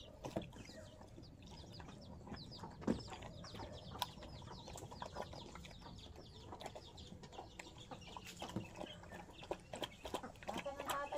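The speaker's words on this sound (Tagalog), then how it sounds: "Tutukain ko lang ang aking mga manok." Chickens cluck and squawk in a busy farmyard while being fed, with scattered bird calls and rustling throughout and a voice talking over the flock in Tagalog.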